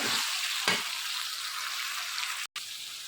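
Chopped onion, ginger and garlic fry in a pan with a loud, continuous close sizzle, a brief stirring scrape early on and a momentary cut-out near the end; no one speaks.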